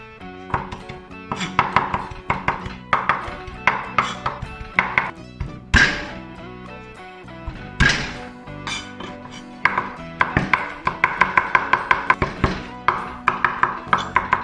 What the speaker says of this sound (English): Coarsely mince the chili, the garlic,